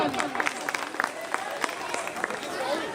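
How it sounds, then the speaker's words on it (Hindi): Audience applause for a poet at a Hindi poetry recital, a dense, steady patter of clapping that carries on across the whole stretch with some speech-like sound mixed in. "जोरदार तालियां"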